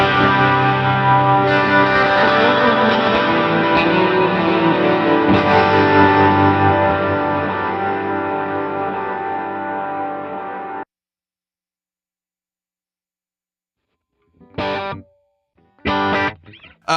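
An electric guitar played through a Tonex preset with modulation and drastic reverb rings out in a thick, swirling, distorted chord that sustains for several seconds and then cuts off, followed by two short stabs after a silence.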